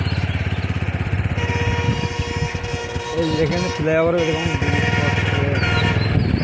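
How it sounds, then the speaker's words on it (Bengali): A motorcycle rides through open fields past date palms, its engine droning steadily up close for the whole stretch while people talk over it. "এটা কিন্তু একদম মাঠের ভিতরে ঘুরে বেড়াচ্ছি আমরা মোটরসাইকেল নিয়ে"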